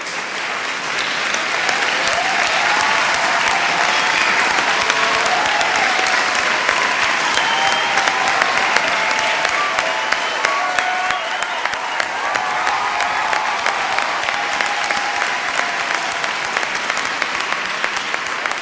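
Audience applause at the Elio Motors E Series vehicle unveiling, as a sheet is pulled off the car: steady, dense clapping from a sizeable crowd that holds at an even loud level throughout.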